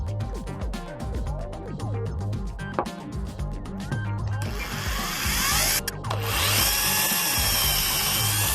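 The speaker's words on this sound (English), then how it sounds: "with the wooden part square to the bar, I'm starting by drilling from the inside out." A power drill bores through a wooden clamp part held square to a metal bar, running in short bursts and then in a longer steady whine, heard up close in a quiet workshop.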